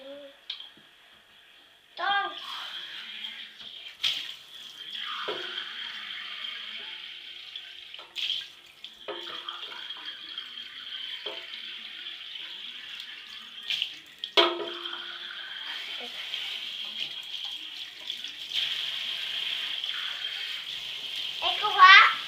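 A water tap runs steadily into a sink while something is washed, a constant hiss with clatters and splashes, as a child and an adult talk over it.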